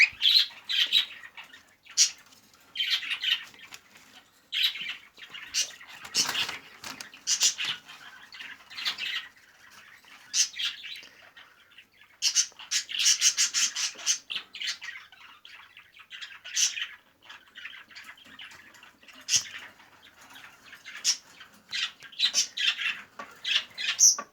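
Budgerigars squawk and chirp in a breeding setup with nest boxes, a busy stream of bursts at close range, some louder, with occasional wing flutters and no talk.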